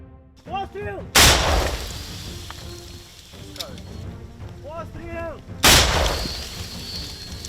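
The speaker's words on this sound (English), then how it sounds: "The Swedish-manufactured AT4 is a disposable anti-tank launcher designed to be fired by a single soldier from over the shoulder." A Swedish AT4 disposable anti-tank launcher fires from the shoulder in combat, two sharp loud blasts a few seconds apart, each followed by a rushing roar, with radio-like chatter and voices in between.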